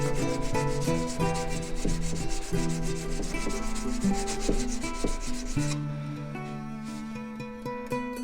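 Harbor Freight chisel rubbed back and forth on a sharpening stone, close rhythmic scraping strokes with a gritty texture that run steadily without a break, no voices.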